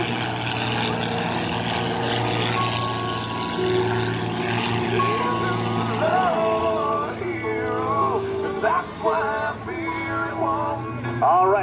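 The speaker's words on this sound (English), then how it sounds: "Incredible flying. They are the Firebirds Xtreme Team." Propeller aerobatic airplanes of a formation team roar overhead at an air show and balloon festival in Battle Creek, engines droning and swelling in pitch as they pass, with an announcer's voice faintly under the noise.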